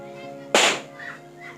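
A single loud firecracker bang cracks sharply at close range and decays quickly, followed by faint background sounds.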